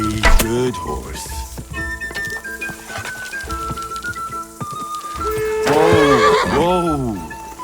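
Loud horse neighs and whinnies ring out repeatedly over a busy, music-like backdrop in the video game Kingdom Come: Deliverance 2, with a long, shrill whinny near the end.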